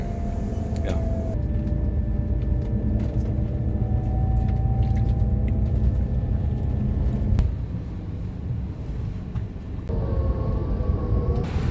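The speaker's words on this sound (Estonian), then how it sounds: "jõudsin bussi peale ja suundumegi nüüd Tallinna suunas" Inside a bus heading toward Tallinn on a sunny day, a steady low road rumble and engine drone fill the cabin, with shifting tones as the bus changes speed and faint rattles through the ride.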